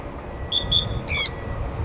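A sun conure parrot calls close by with two short thin peeps and then one louder, harsher squawk over a low background rumble.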